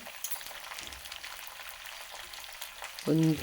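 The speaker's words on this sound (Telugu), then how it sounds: "ఒక అర డజన్ పచ్చిమిరపకాయలు, కొంచెం కరివేపాకు వేసి దోరగా వేగనివ్వాలి." Onions, green chillies and curry leaves fry in oil for upma, giving a quiet, steady sizzle with faint crackle throughout, then a brief louder tonal clatter near the end.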